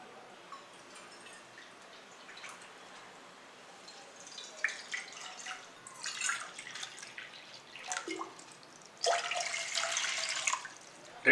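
Water pours into a cooking pot for melting jaggery while making modak, starting as faint trickles and drips and building to a louder, steady splashing pour near the end.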